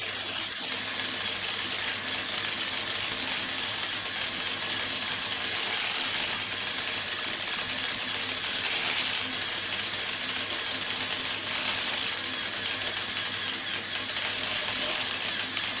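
LEGO all-wheel-drive car drivetrain running with every differential locked, producing a steady, dense whirring and clicking of plastic gears and ratchets that continues without a break throughout.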